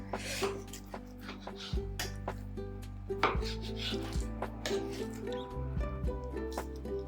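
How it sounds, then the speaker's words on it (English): A knife cuts a thin piece off a whole beef rump, heard as repeated close slicing and scraping strokes with light knocks on a board, rhythmic and steady with no talking. "I'm going to cut this piece off"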